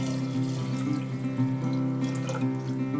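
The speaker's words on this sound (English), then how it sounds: "Now I'll just add the vegetable stock to this." Vegetable stock pours into a cooker of mixed vegetable soup, a continuous close liquid splash and gurgle that stays fairly loud throughout with no voices.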